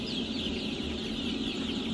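Young chicks on a poultry farm give off a continuous high chorus of cheeping and clucking at close range, steady and faint-to-moderate, with no speech over it.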